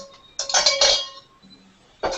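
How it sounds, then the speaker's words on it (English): Finely diced pumpkin tipped into a soup pot in a Caribbean kitchen, giving a clattering rush of clinks and a knock of utensil on pot, then a second sharp clink after a short pause. "now I'm going to put in some pumpkin"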